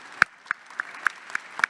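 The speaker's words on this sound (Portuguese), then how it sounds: "E a ela, todos os nossos aplausos," Sparse, isolated handclaps at a Bienal do Livro book fair session honoring writer Carolina Maria de Jesus; about six distinct sharp claps at an uneven, slowish pace over near silence, sounding like only a few people clapping.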